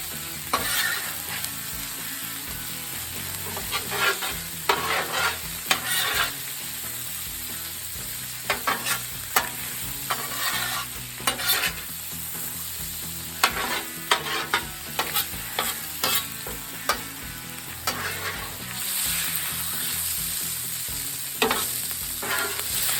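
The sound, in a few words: venison sizzling and being scooped on a Blackstone griddle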